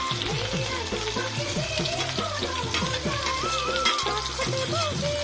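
Onions frying in hot oil in a kadai for a Magh Bihu home-cooked meal, a steady, dense sizzle running unbroken throughout with tonal sounds layered over it.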